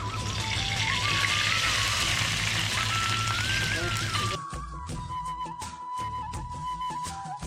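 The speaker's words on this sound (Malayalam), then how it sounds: "അപ്പം ഞാനിതിലേക്ക് ഇനി കടുക് പൊട്ടിച്ച് ഒഴിക്കാണ്." Mustard seeds spluttering in hot oil for tempering, poured over Onam curries; a dense crackling sizzle fills the first four seconds, then eases to softer sputtering with a faint tone underneath.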